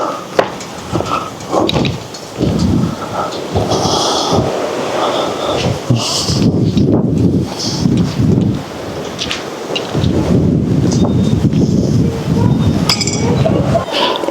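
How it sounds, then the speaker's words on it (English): Strong blustery winter wind buffets the microphone on an off-grid homestead, roaring steadily with gusts throughout, mixed with clinking sounds and brief talk. "It's really quite blustery today"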